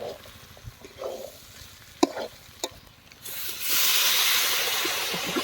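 Water poured into a pan of sizzling ghugni masala made with mutton fat, the frying hiss swelling into a loud, steady steam roar after a few stirring clatters.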